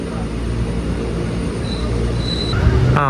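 A train rolls past a small railway station in Kerala, a steady close rumble of wheels and carriages with a brief high squeal near the end and a faint horn-like tone.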